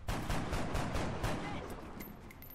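Gunfire in XCOM Long War comes as a quick, loud burst of rapid repeated shots that trails off into a ringing decay.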